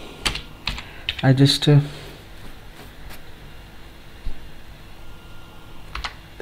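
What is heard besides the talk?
typing on a computer keyboard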